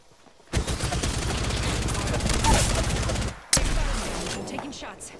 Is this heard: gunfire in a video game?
yes